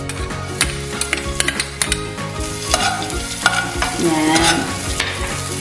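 Ginger sautés in a little oil for stuffed string beans, a faint sizzle under loud background music with a steady beat, broken by sharp utensil clicks and scrapes against the pan. One short spoken word is heard.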